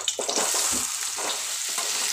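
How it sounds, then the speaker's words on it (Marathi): Whole spices and garlic fry in two to three spoons of hot oil, giving a steady close sizzle with soft stirring scrapes running throughout. "आता ह्याच्यात ना 2-3 चम्मच तेल घातलेले आहे आणि हे बघा हे खडे मसाले घातलेले आहे. लसूण पण घेतलेली आहे मी."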